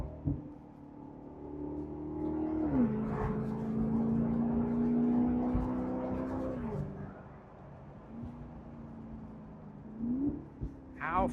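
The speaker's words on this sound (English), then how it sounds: "when I use the paddles to drive it, because I got it in manual mode, it blips the throttle as it downshifts, which makes it sound so cool" A 2011 Maserati GranTurismo engine rumbles steadily and blips its throttle on paddle downshifts in manual mode, with a few rising and falling rev swells heard from inside the car.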